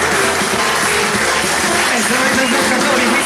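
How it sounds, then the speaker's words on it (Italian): Festival audience at an outdoor evening show in Naples clapping, a dense, loud burst of applause sustained evenly throughout with a voice faintly underneath. "Facciamo un applauso."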